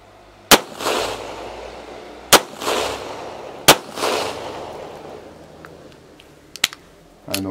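Arsenal Strike One pistol firing outdoors in snow, three loud sharp shots about a second and a half apart, each followed by a rolling echo, then a couple of fainter clicks and a last crack near the end.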